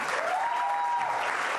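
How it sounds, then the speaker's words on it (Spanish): Congregation at a Spanish-language church service breaking into loud, steady applause that fills the room without a break, with a faint sustained tone running underneath. "Dale un fuerte aplauso."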